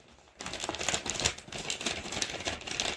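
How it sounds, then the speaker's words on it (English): Scissors snip open a plastic packet of volcano plaster from a DIY volcano kit, giving a close, steady run of crisp crinkling and cutting rustle that lasts a few seconds after a brief quiet start. "So this is the volcano plaster that comes with it. So we're going to cut that."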